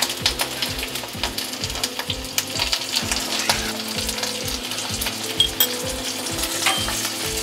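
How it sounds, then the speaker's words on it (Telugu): Tindora (ivy gourd) frying in hot oil, a continuous close sizzle and crackle with a steady rhythmic stirring or scraping pattern throughout. "నూనె వేడెక్కింది, ఇది దొండకాయలు వేసేద్దాం"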